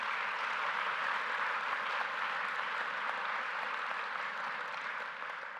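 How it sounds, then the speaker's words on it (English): A debate audience at the Palladium applauds in an even, sustained wash of clapping that fills the hall, steady and moderately distant before easing slightly at the end. "Please, let's give a round of applause to the Palladium."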